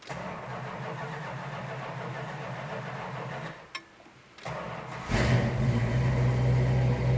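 A 1970 Dodge Challenger R/T convertible idles low, cuts out briefly, then its cold engine, unstarted for a day or two, cranks and catches, settling into a loud, rumbling idle close by.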